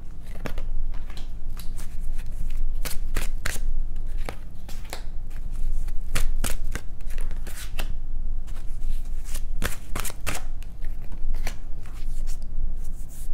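Tarot cards are shuffled by hand in quick, crisp riffling bursts of papery slaps, repeated many times close to the listener with no talking.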